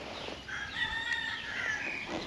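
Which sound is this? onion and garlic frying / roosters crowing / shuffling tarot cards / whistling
roosters crowing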